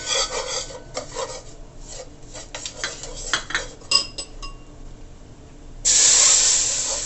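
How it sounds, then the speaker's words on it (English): Oil heated with curry powder for Jamaican curry crab is stirred in a pot, giving rasping scrapes and metallic clinks, and then a loud, sustained steamy hiss bursts in near the end. "this is the next process now where we burn the curry. So here I have my oil. Just gonna stir this around"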